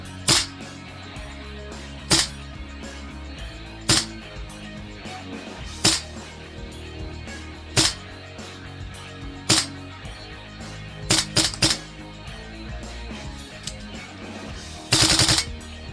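Tokyo Marui AKM airsoft rifle with a Jaeger Precision Arm, 310mm inner barrel and Flamingo bucking, firing 0.3 gram BBs: sharp single shots spaced about two seconds apart, then a rapid cluster and a short burst near the end, over steady background hum.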